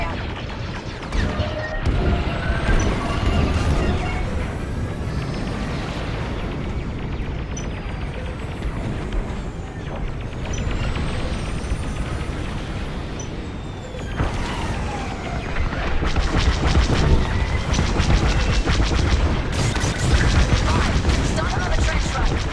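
Heavy fire and explosions in Star Wars: Squadrons during a trench run, a relentless roar of blasts, crashes and rapid laser-like shots layered over engine rumble, loud and dense throughout with swelling bursts near the end.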